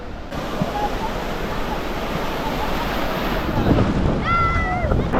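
Sea surf rolls continuously at Digha Udaipur beach, a broad, steady wash mixed with wind buffeting on the microphone, with faint voices toward the end.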